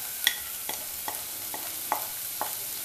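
Spices go into cooked onions in a pan while making mushroom masala, a spoon scraping and stirring in six brief, evenly spaced strokes over a low, steady sizzle.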